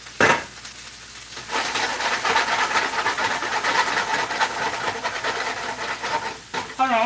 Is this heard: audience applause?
no